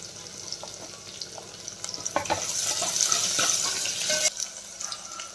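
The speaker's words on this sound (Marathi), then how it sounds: "कांदा पण आपल्याला 2 मिनिट तेलावर चांगला परतून घ्यायचा आहे." Onion sizzles in hot oil with ginger and garlic, a close, continuous frying hiss that swells midway, with a few soft clinks and scrapes of a stirring spoon.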